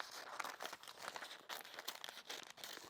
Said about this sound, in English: I'm just going to cut out very roughly